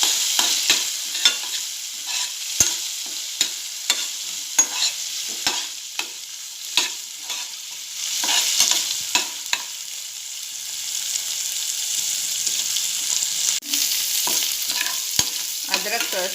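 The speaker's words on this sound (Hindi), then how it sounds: "हल्की आंच पर थोड़ा तेल में भूनेंगे" Ingredients for sweet corn upma fry in a little oil over low heat, with a steady close sizzle broken by repeated scraping and clacking stirs of a spoon against the pan, no talking.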